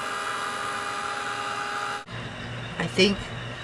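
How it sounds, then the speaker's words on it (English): A Tim Holtz heat tool blows with a steady, close whirring hum for about two seconds, then shuts off abruptly, followed by quieter background and a few brief knocks. "I'm going to use this Tim Holtz heat tool"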